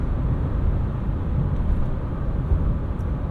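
A 2023 Subaru Forester Wilderness with its boxer engine driving along, a steady muted low rumble mixed with road noise from inside the cabin, constant throughout.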